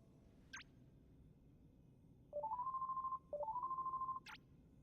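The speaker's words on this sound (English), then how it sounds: "You've got the gummy phone, Sora. Why don't you try giving him a call" The gummy phone in Kingdom Hearts 3 rings with a short chime followed by two long electronic warbling rings and another brief chime, clear over a quiet game background.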